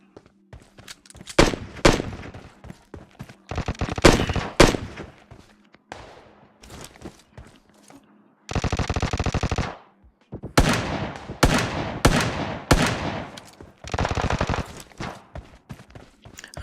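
Pistol fire in the PUBG Mobile battle royale game, crackling in repeated rapid bursts with short pauses between volleys, plus one sustained dense stretch of shooting midway.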